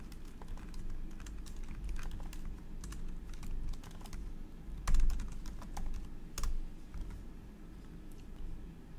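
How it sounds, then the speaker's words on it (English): Quick, uneven keystrokes clatter on a computer keyboard, close and continuous, with a few heavier thumps of larger keys along the way and no voices. "Let's start typing."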